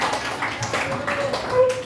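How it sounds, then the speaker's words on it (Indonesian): Students in a classroom clap for a group: a short burst of scattered, close claps mixed with voices talking over them. "tepuk tangan dulu buat kelompok Andika"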